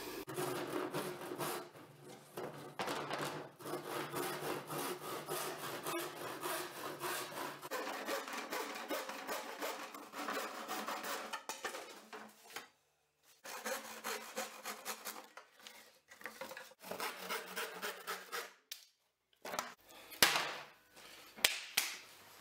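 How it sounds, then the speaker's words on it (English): A hand saw cuts through wood to make the base of a coffin-shaped shelf: long runs of rapid rasping strokes, close and fairly quiet, broken by two brief pauses and a few knocks near the end. "now I'm gonna cut out this bad boy"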